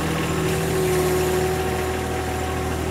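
A subcompact tractor engine idles steadily up close, a constant mid-low rumble with a faint tonal hum holding level for the whole stretch, with no voices over it.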